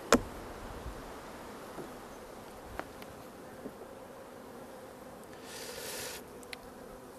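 Honeybees hum softly around a swarm hive in an apiary, a faint steady insect drone with a few brief ticks and a slight swell near the end, no talking.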